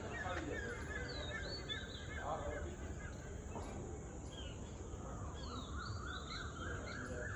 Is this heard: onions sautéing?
no